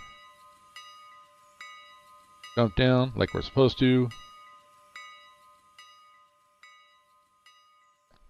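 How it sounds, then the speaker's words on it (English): A locomotive bell in the Railroader game rings in steady, evenly spaced strikes, about one per second, that continue through the whole stretch. Someone briefly talks over the ringing partway through. "that's enough with the bell"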